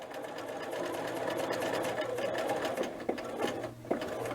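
Sewing machine running steadily, stitching a line across a small triangle on a dress collar, a close, even whirr with a few light clicks near the end.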